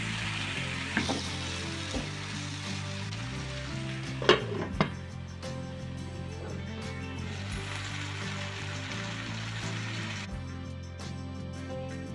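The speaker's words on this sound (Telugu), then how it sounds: "ఇప్పుడు చాప్ చేసుకున్న మూడు టమాటాలు కూడా వేసుకొని ఈ టమాటాలు మధ్య వరకు మూత పెట్టి ఉడిపించుకుందాం" Three chopped tomatoes cook in a pan for a dry mutton curry, a soft, steady frying sizzle with a few light utensil knocks near the middle and a low tonal hum underneath.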